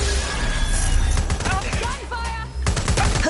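Rapid video game gunfire bursts sound close and loud, with game voice chatter and callouts mixed in throughout.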